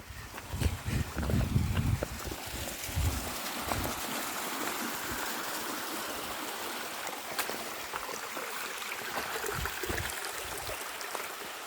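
Water from the La Cascada de la Clara waterfall and stream rushes in a steady broadband wash at moderate distance, with low rumbling knocks and handling noise near the start.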